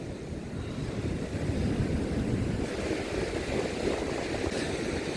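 Rough storm sea surf rolls and crashes continuously over a beach in Odesa, a broad roaring wash with gusting wind noise across the microphone.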